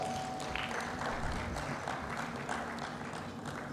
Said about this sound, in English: maybe we'll give her a round of applause